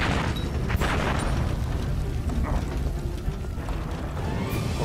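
In the World War I video game Valiant Hearts: The Great War, a deep rumbling blast swells and decays, with a sharper burst near the start and low, booming debris noise lingering after.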